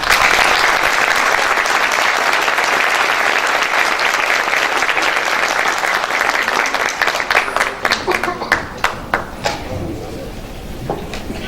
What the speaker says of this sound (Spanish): pido sin más que recibamos con un fuerte aplauso a nuestra invitada de hoy